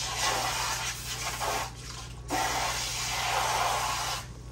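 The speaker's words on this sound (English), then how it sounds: "I still gotta put a little bit more water." Water pours from a tap into a pot for gravy, giving a steady hissing splash that briefly cuts off and resumes, close and moderately loud with no speech.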